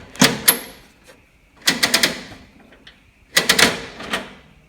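The mechanical calculator of an antique Wayne 40 gas pump resets in three separate bursts, each a quick clattering run of sharp clicks and ratchets, close and crisp with quiet gaps between them.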